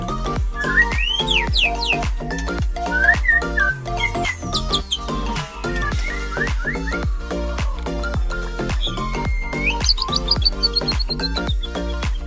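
Loud, busy birdsong from long-tailed white-rumped shamas at a breeding farm, with rapid varied whistles, chirps and trills, close by and continuous, with no talking.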